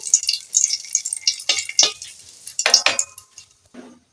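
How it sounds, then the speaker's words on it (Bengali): A torn bay leaf goes into hot oil in a pan, producing close, bright crackling and spitting sizzle with scraping and clinking of a utensil, fading toward the end. "তেল হয়ে গেছে একটি তেজপাতাকে আমি ছিঁড়ে নিয়েছি দিয়ে দিলাম"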